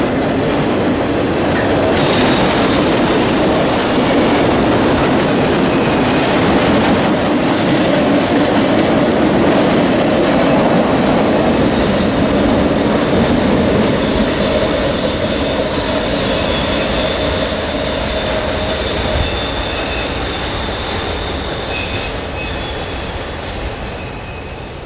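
Two GE CW40-8 diesel locomotives haul a train past, with a steady loud rumble of wheels and cars, clickety-clack over rail joints and occasional wheel squeal throughout, fading slightly at the end.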